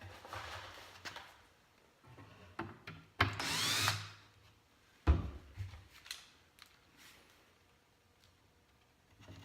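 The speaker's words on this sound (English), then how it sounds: "Screw that on quick. I'm just gonna put 3 screws for now." A power drill drives screws into wood for a miter saw station, with short bursts of whirring motor and one louder, longer run, separated by quiet handling knocks and clunks.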